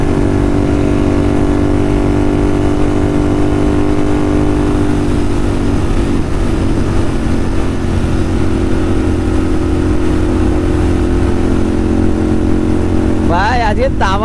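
A Kawasaki Z900 motorcycle on a Sunday ride drones loudly and steadily from its engine with wind rush throughout, and a horn-like warble sounds near the end; a voice speaks faintly beneath.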